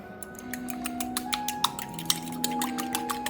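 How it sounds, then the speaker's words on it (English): An egg being beaten in a bowl with a utensil, fast irregular clinks and taps of metal against the bowl, close and fairly steady, with a faint background hum. "Kind of beat it up pretty good."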